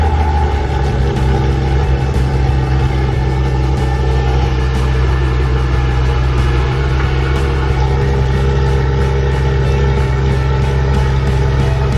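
A Porsche 991.2 GT3 RS engine runs with a newly fitted exhaust, a steady loud droning hum that holds constant throughout with no change in pitch, heard close and alone.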